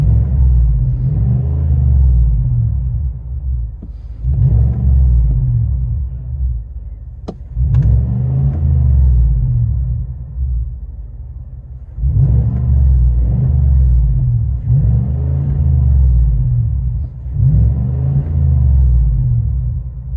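A 2022 Chevy Silverado RST with a 6.2L V8 and a Flowmaster Super 10 muffler gives a deep, rumbling exhaust note, revving up repeatedly in loud, throaty bursts that settle back to idle between pulls.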